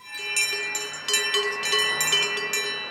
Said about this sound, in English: A half dozen of his pocket watches set to chime in synchronicity, meant to echo the sounds of the valley.